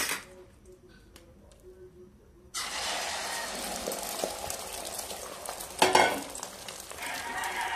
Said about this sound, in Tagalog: magluto na tayo sa ating itlog